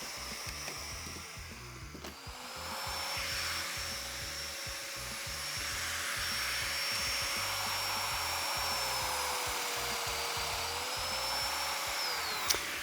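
Domino-style joiner cutting mortises in cabinet parts for a mudroom cabinet, a steady whining motor drone with a high pitched tone that runs continuously for several seconds after a brief start, alone without talk.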